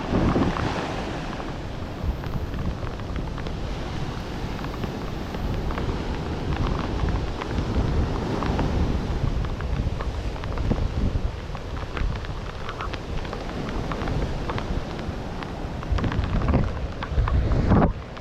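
Rough sea surf breaks continuously along the shore after a sudden downpour, with strong wind buffeting the microphone; a loud, steady roar of waves and gusts fills the scene with no talking.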